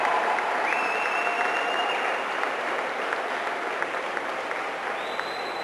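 Steady crowd applause at a high school Class 4A boys swimming and diving championship, filling a reverberant pool hall at an even level throughout, with no talk over it.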